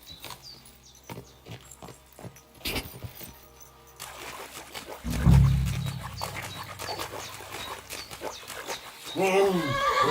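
Mutt the dog panting and snuffling nearby in Kingdom Come Deliverance II, breathy and rhythmic, heard among footsteps, ambient game sound and a voice calling out.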